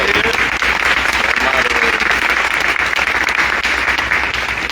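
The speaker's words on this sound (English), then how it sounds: "Let's give them a round of applause" Loud, sustained applause from the audience at a Juneteenth mayoral debate in Jackson, Michigan, a dense continuous wash of clapping heard up close.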